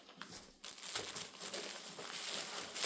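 A thin Polycro plastic tent ground sheet crinkles and rustles continuously as it is handled and unfolded, close up and busy with sharp crackling.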